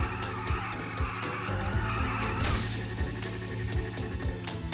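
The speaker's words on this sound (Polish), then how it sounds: "Około 26 sekund czekamy na to, żeby stracić oponę, kiedy to po prostu palimy ją w miejscu." A motorcycle in GTA V holds a tire burnout in place, a continuous loud screeching skid over a droning engine with rhythmic ticking, sustained without a break.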